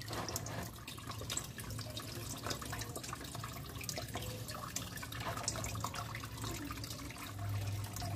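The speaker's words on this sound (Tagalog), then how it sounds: "Hintayin nyo lang pong mawala yung tulo para sigurado kayong na-drain na po ang coolant sa inyong radiator." Coolant drips and trickles out of a Nissan Sentra radiator during draining, a steady watery patter heard close and alone.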